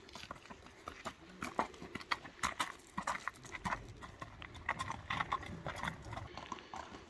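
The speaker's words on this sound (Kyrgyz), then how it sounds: "экинчи атты тартып көрсөтүп берүүнү биз баштадык" A horse being led along makes a steady run of close hoof clip-clops on hard ground, irregular and fairly quiet, with faint background noise and no clear talk.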